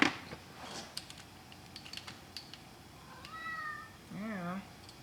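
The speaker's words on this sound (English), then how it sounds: "Oh, and we have the cat again." A house cat meows twice near the end, rising and falling calls heard over soft keyboard typing and quiet room sound during a relaxed evening CAD session for cat camera bot components.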